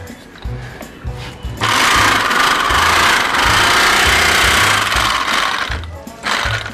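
A tailor's sewing machine starts up and runs in a steady loud whir for several seconds, then stops and briefly restarts, close by, over a low thumping background.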